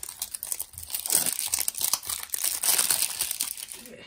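Crinkly plastic wrapping is torn open on an LOL Surprise Under Wraps toy, a steady run of close, bright crackling and tearing with no voice over it.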